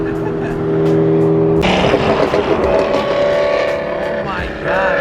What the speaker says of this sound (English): I always forget how loud E92s are.